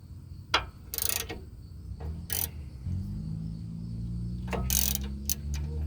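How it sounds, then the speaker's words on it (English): A ratchet wrench removing the 10mm caliper bolts from the rear brake knuckle of a 2002-05 Ford Explorer, with a few sharp clicking bursts followed by a steady low rattle of ratcheting, close and moderately loud. "go ahead and remove these 2 bolts here. These are the 10mm."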